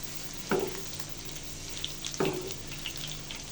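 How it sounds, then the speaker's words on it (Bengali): Cabbage pakoras deep fry in oil over medium heat, a steady bubbling sizzle broken by two sharp clatters as they are turned, with no voices. "এখন মিডিয়াম জাল রেখে পাকোড়াগুলো ভেজে নিব।"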